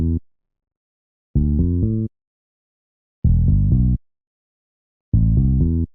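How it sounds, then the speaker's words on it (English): Bass guitar notes from the Boo Bass plugin in an FL Studio remake, played in short deep phrases of a few plucked notes each, separated by silent gaps, clear and alone. "I have this bass guitar here, which I'm getting from Boo Bass"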